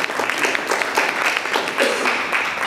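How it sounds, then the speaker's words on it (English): Audience applause welcoming Assemblymember Kansen Chu at a community unity day gathering in Saratoga, a steady, dense round of clapping throughout with faint crowd murmur. "welcome Kansen Chu, Assemblymember Kansen Chu, to a big round of applause"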